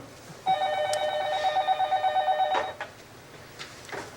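A telephone rings in a quiet room with one continuous electronic trill of about two seconds, loud and near, then stops.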